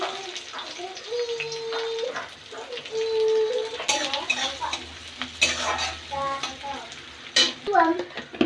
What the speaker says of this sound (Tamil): இப்போ பொரியல் செய்கிறேன் காலிஃப்ளவர் உருளைக்கிழங்கு பொரியல் செய்கிறேன்